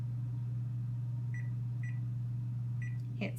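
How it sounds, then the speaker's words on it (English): A kitchen timer on an oven is set while baking an apple pie, giving a few short, sharp beeps spaced apart over a steady low appliance hum, with no talk. "I'm going to set my timer,"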